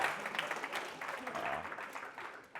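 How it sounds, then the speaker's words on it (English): Conference audience applauding at a developer event, a dense steady wash of clapping across the room that holds for a few seconds before fading at the end, with voices faintly mixed in. "Big round of applause."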